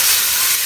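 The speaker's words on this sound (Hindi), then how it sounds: "तब तक इसको हम फ्राई करेंगे" Ingredients for chicken corn soup frying in a pan, a loud, close, steady hiss of sizzling that fills the whole moment without pause.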